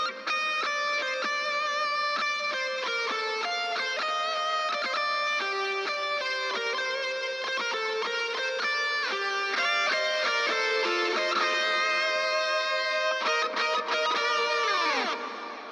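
A distorted lead guitar through a TS808 Tube Screamer with a noise gate plays a sustained melodic solo line of held and bending notes, ending in a downward slide. Loud and continuous, with no talking.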